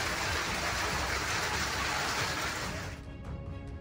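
Heavy rain with hail pours down during a storm in Hassan district, a dense, loud, continuous hiss that thins out near the end.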